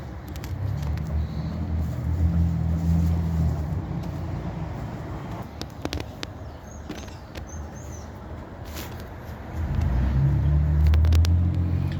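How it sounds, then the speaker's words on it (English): Cars pass by with deep swelling rumbles, one near the start and another toward the end, and a quieter stretch of road noise between. "A lot of cars going by"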